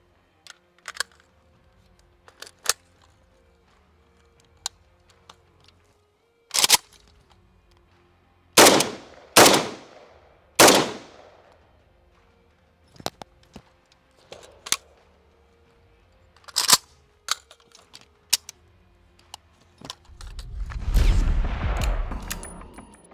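Several sharp airsoft gunshots ring out one at a time at irregular intervals, some loud and close, with a longer rumbling blast near the end.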